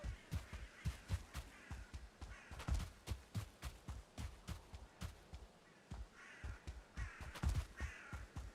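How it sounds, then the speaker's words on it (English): Crows caw in Valheim, a long run of rough, evenly spaced calls from several birds, moderately loud against quiet game ambience with a few faint footsteps. "we hear them crows"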